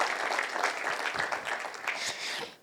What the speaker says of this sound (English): Let's give a clap to those forebearers.